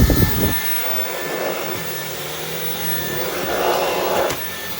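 Dyson V12s Detect Slim Submarine cordless wet-and-dry vacuum cleaning floors: a steady, loud, close motor whine with a faint shift in tone as it moves, with no talk.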